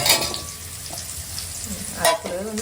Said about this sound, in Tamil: அதுக்குள்ளே வெங்காயம் நல்லா வதங்கட்டும்